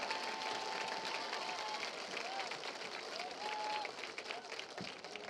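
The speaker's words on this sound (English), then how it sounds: "Let's give a big round of applause to the 2017-18 Spring-Ford Area School District Homecoming Court." A crowd at a high school football game applauds the Spring-Ford Area School District homecoming court: dense, steady clapping and cheering throughout, with a faint voice over the noise.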